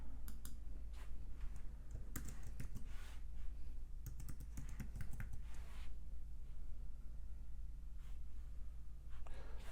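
Password typed on a computer keyboard while securing a Gmail account, with rapid clicking key strokes in irregular bursts over a low steady hum, no talking.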